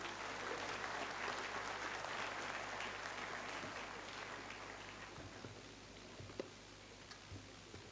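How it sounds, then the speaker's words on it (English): Sustained applause from a convocation audience at a law university in Kolkata, welcoming the Chief Justice of India; dense steady clapping fills the hall and thins slightly toward the end. "Ladies and gentlemen, welcome him with applause."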